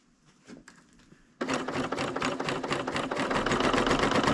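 A Bernina serger stitches fabric after a quiet start with light handling noise, its motor kicking in abruptly and running steadily with a rapid, even mechanical chatter up close.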